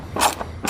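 A ratchet loosens air box bolts on a 2019–2021 Ram 1500 Hemi V8, giving a few quick, close clicking ratchet bursts within a second, with no speech.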